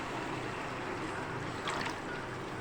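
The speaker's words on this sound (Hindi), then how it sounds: "अब इसके अंदर हम उतना पानी डालेंगे जितना हमें शोरबा चाहिए।" Water is poured into a pot of curry gravy for besan khandwi (dhokli) salan, making a steady, close rushing splash that runs evenly for a couple of seconds.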